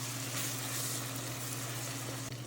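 Fish curry sizzles steadily in a pan during stirring, with green chili and bay leaf added, a quiet continuous frying hiss with a low hum and no talking.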